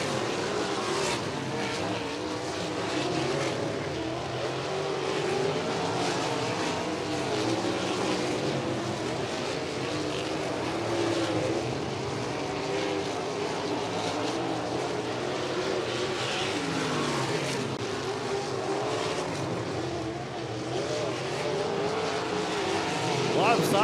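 410 sprint cars racing side by side in hot laps and qualifying at Paragon Speedway, a steady dense roar of engines throughout with a commentator talking over it.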